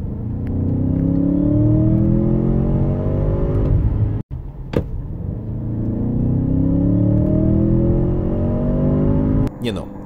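An Audi S8 D5 with the 4.0 TFSI V8, in sport mode, accelerates hard through the gears, its loud rising engine roar broken by a sharp shift before climbing again, heard from inside the car.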